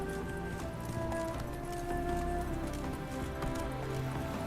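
Horse hooves clip-clopping at a gallop in The Witcher 3, a steady rapid rhythm up close with game music underneath.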